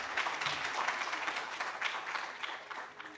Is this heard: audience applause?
yes